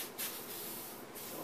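WD-40 aerosol can spraying onto steel wool while cleaning the shaft of a 1940s Chicago Electric Handybreeze fan, heard as two short hissing bursts separated by a steady quieter hiss, close and moderately faint.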